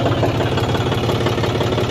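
A tractor engine runs close by at a steady idle, a loud low rumble with a fast, even knocking pulse throughout.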